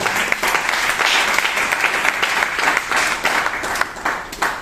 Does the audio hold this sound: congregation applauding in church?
yes